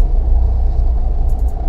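Manual-transmission car engaging reverse gear and beginning to roll on a straight street during a driving lesson: a loud, steady low engine rumble with a brief click at the start, no talking.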